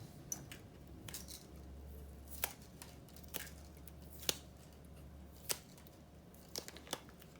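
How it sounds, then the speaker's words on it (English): Heat tape being peeled and crinkled off a sublimation mug after pressing in a Cricut mug press, with several sharp tearing snaps over a steady low hum. "Take off those tapes."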